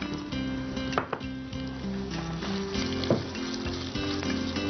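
Soaked rice with green chillies sautés in ghee, crackling and sizzling continuously at close range. Occasional stirring scrapes and clinks sound over the frying.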